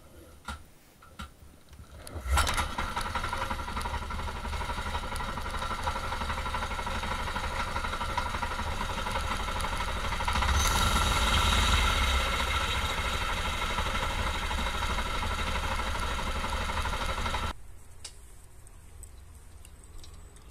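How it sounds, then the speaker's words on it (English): A homemade four-stroke paramotor engine runs steadily after a pull start, a continuous mid-pitched drone with a brief rise in revs partway through, then cuts to faint background. "I thought I would test how easy it is to pull start in flight"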